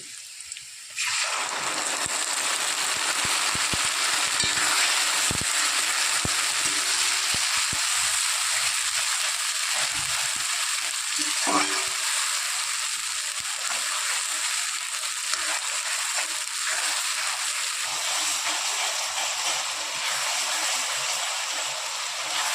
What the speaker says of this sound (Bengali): মশলাটা ভালো করে কষাতে থাকবো যতক্ষণ আদা পেঁয়াজের আদা রসুনের পেস্টটা যতক্ষণ গন্ধটা না বেরোবে ততক্ষণ আমি কষাতে থাকবো